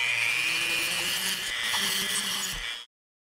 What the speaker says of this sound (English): I'm just going to quick use my Dremel tool